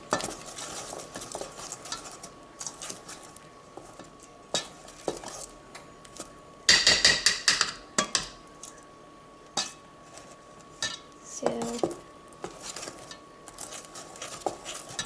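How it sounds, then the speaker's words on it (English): A spoon stirs flour into lemon-curd Swiss roll cake batter in a bowl, with soft, irregular scraping and tapping against the bowl over about fifteen seconds, a louder clatter burst midway, and no talking. "Still see some flour on the sides. Get that mixed in."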